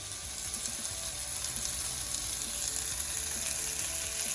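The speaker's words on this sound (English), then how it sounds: "Once the pan is hot, go ahead and place your skewers" Paneer tikka skewers laid on a hot pan with a little oil sizzle steadily and close, a dense frying hiss with faint ticking pops and no voices.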